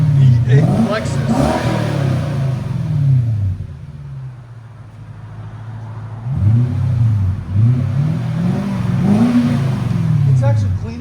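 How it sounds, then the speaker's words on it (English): A 2006 Lexus SC 430 with a 4.3L V8 and its muffler deleted revs hard several times, close by. Each rev rises and falls in pitch, with a deep, throaty exhaust bark and a brief idle lull between bursts. "SC430 V8 Lexus."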